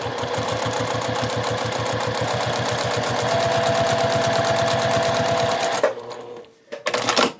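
A Juki TL 2020 PE sewing machine stitches through faux leather in a fast, steady needle rhythm up close, then stops abruptly near the end, leaving a few faint handling knocks.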